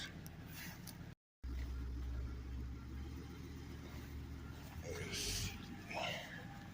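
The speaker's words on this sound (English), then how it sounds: "I'm about to back this U-Haul trailer into the spot" A 26-foot U-Haul box truck reverses slowly, its engine a low, steady idling rumble with a slight rise near the end, while people talk nearby.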